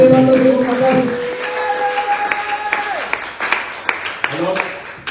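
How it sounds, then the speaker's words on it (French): Congregation clapping at a French-language church prayer service, a burst of applause under singing and voices, close and fairly loud, with scattered sharp claps near the end. "Applaudissons fortement pour Jésus."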